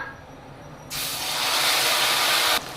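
Whole cumin, cardamom, cloves, cinnamon, bay leaf and dried red chilli hit hot oil with a sudden loud, steady hiss that holds for under two seconds and then drops away. Nobody speaks.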